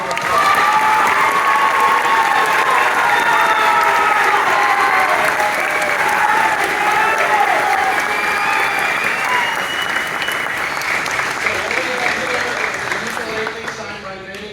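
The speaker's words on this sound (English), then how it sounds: "Let's give her another huge round of applause" A large audience gives a long, loud round of applause for a learning facilitator, dense clapping with some cheering and voices mixed in, gradually thinning out near the end.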